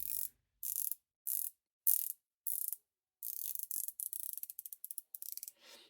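Crisp ratcheting clicks from the rotating sapphire bezel of a Wishdoit WSD 9987 watch, first five separate close clicks, then a rapid run of many clicks as the bezel spins further, quiet and alone.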